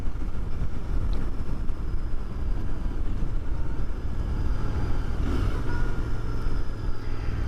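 A Royal Enfield Continental GT 650 motorcycle engine drones steadily on an open road, with heavy wind rush over the microphone covering the engine note throughout.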